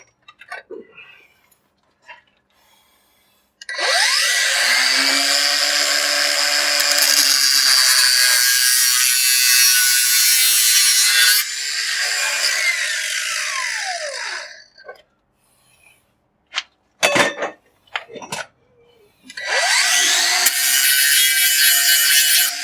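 A wire wheel scrubs a copper pipe at a leaking joint, a loud, harsh whirring scrape that spins up, grinds steadily for about ten seconds, then winds down, followed by scattered clunks and a second burst of abrasive spinning.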